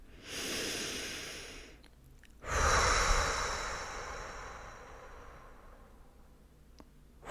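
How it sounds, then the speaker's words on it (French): Two slow, deep breaths close to the ear, each a long airy inhale-exhale rush fading out gently, with a short pause between them. "prendre une grande inspiration"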